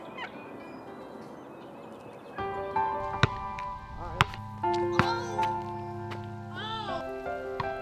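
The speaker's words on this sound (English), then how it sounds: "To hear him gobble and spit drum is an incredible experience" A wild turkey gobbler gobbles in spring, with loud, sharp bursts standing out over a steady low hum and light patter, alongside other calling in the open air.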